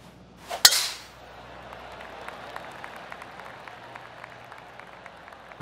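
A golf tee shot on a long par four in a PGA Tour video game: a single crisp, sharp strike, followed by a soft, steady wash of crowd noise.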